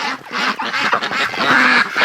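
A flock of breeding ducks quacking close by, with overlapping raspy calls that continue busily and without pause throughout.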